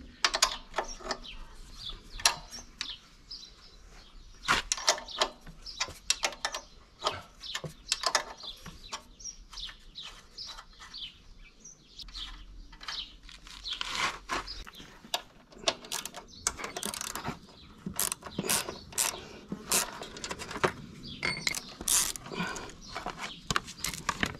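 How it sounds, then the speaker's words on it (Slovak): Work on a drum mower: near metallic clicks, ratcheting taps and scattered clanks come in irregular bursts with quiet gaps, as if bolts are being loosened with a hand tool, while faint chirps sound in the background. "budeme musieť povoliť tieto skrutky"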